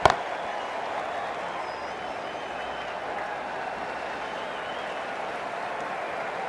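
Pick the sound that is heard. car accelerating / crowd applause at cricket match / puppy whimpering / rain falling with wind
crowd applause at cricket match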